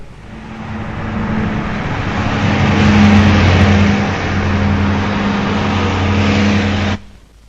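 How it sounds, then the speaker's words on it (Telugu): A car on a road approaches with a steady engine drone that swells louder as it nears, then stops abruptly, with no one talking. "ఏదో కారు వస్తోంది, లిఫ్ట్ అడిగి చూద్దాం."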